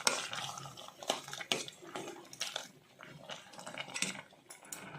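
A spoon stirs a pot of sorekayi payasa, a bottle gourd pudding sweetened with jaggery, producing repeated close clinks and scrapes against the metal in an uneven rhythm over soft liquid sloshing.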